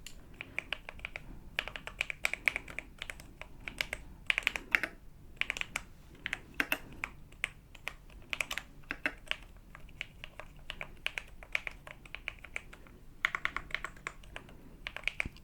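Close, quiet typing on a mechanical keyboard with banana switches, a steady stream of soft thocky key clacks with no talking.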